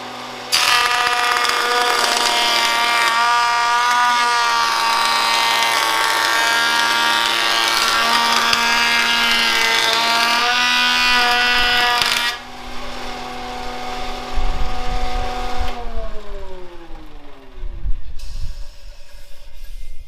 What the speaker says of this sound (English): Joint it for the true flatness of the piece, and then run it through the planer